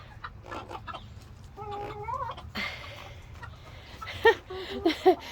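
Chickens cluck and murmur nearby in short, irregular bursts, with a few sharper squawks toward the end.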